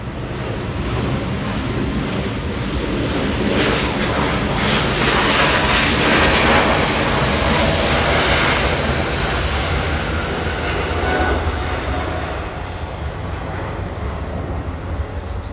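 A heavy Hawaiian airliner lands on runway 24 right at Los Angeles International Airport, its broad, steady engine roar and rushing air holding loud throughout, swelling slightly mid-pass, with wind noise underneath.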